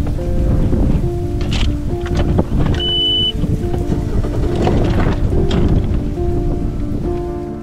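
Wind from an approaching south storm roars across Lake of the Woods, a loud, continuous rushing gust mixed with boat engine hum and splashing water, no voices.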